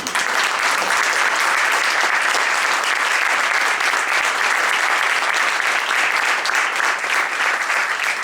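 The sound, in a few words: applause for Jón Ingi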